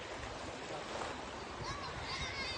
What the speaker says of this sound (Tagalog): So relaxing pag marinig mo yung tubig.